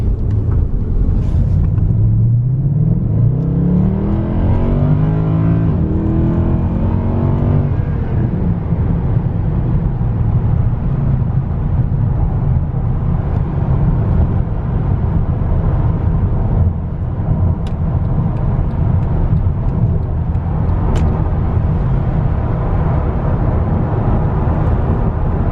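A fast luxury car in comfort mode accelerates up a highway on-ramp, its engine rumble rising steadily and staying loud and close from start to finish, with no talking.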